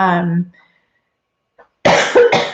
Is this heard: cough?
yes